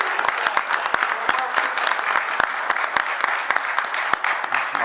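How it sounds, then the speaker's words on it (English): A county fiscal court audience gives a round of applause for a group of young lady cheerleaders, dense sharp claps rattling steadily for several seconds, fairly close and without talk. "Let's give these this great group of young ladies a round of applause"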